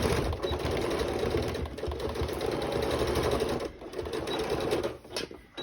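A sewing machine runs steadily, stitching fabric and gathered elastic for the pocket of a fabric basket, its rapid close-up needle chatter continuing with only brief slowdowns near the end.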